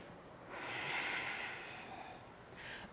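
Deep breath during a yoga session, a soft, airy inhale that swells and fades over about a second, followed by a shorter breath, faint and close.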